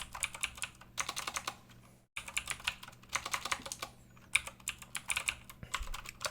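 Rapid keystrokes on a computer keyboard during a Windows malware-analysis exercise, a steady clatter of close, bright taps in bursts with one brief pause partway through, no voices.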